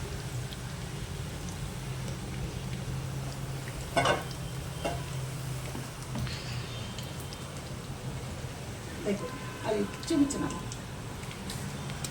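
Onion pakoda batter balls frying in hot oil, a steady, moderately loud sizzle running throughout, with a few brief clatters and stirring noises near the start and toward the end.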